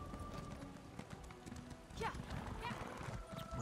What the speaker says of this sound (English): My horse is so slow.